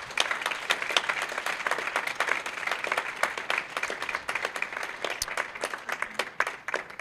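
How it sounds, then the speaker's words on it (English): Audience applause for two debaters at a school constitution lecture event, a dense sustained patter of many hands clapping throughout, steady and fairly close, with no talking over it. "let's give these two debaters a round of applause"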